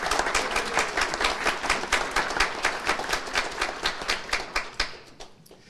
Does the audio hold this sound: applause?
yes